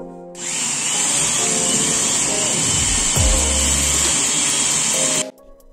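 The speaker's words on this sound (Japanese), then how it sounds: "ここの穴開けは数十箇所に穴開けてハンマーでぶち壊していこうと思います" A power drill bores holes into an old house wall to open a passage for a wood stove chimney, a loud steady whine running for about five seconds before stopping abruptly.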